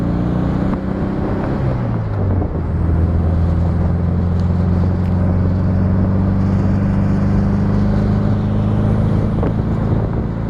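A 1969 Volkswagen Beetle Convertible with a 4-speed manual on the move: a loud, steady engine drone with a pitch drop as it shifts early on, buffeted by heavy wind noise around the open top.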